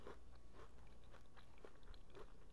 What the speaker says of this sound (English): I don't know if you can hear the crunch. These are crispy and they're so good.